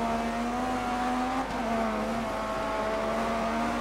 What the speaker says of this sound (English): there goes a RS200 and an Audi Quattro overtaking us